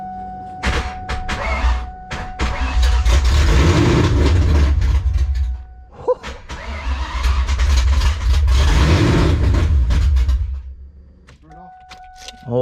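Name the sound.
supercharged cammed Terminator Cobra engine starting up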